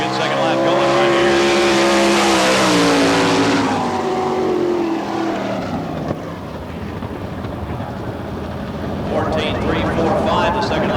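A sprint car on a qualifying lap at Barberville speedway in Florida, its engine roaring loud and close with rising and falling pitch as it powers around the dirt oval, a commentator talking over it.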